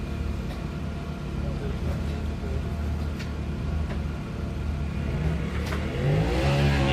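Turbo off-road race truck at a dusty start line during desert race qualifying in Broadview, Montana: a continuous loud engine rumble that builds into a throaty rev near the end, with a commentator talking over it.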